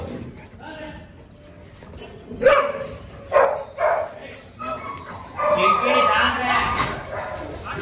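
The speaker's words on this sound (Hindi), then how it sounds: "1-2 डॉग भौंकना नॉर्मल हो जाता है, इतने नहीं भौंकते।" A Rottweiler and other dogs bark in sharp bursts around the middle, with louder overlapping barking toward the end, while a person speaks throughout.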